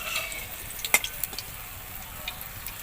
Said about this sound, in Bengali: তো এই যে বড়াগুলো আমি এখানে বেশ লাল লাল করে ভেজে নিয়েছি